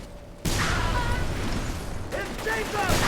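Dense, loud gunfire bursts in the Mercenaries 2 video game, with rapid shots layered over shouting voices.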